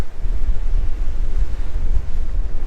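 Ocean waves surge and break near a coastal lighthouse, a loud, continuous wash of surf with heavy wind rumble buffeting the microphone throughout.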